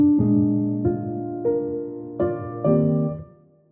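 Felt piano from the Olafur Arnalds virtual instrument playing a custom preset: five soft, muffled chords struck at an unhurried pace, each warm tone ringing and fading into a gentle decay, close and alone.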